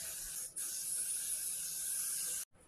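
A spray bottle mists liquid onto a lace frontal wig in one long, steady hiss lasting about two seconds, fairly faint and close, then stopping abruptly.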